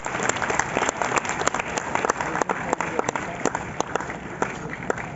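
Applause from an audience at a coaching institute's annual function honouring successful NEET students, a dense steady patter of many hands clapping with a fairly quiet, thin quality, continuing throughout without a break.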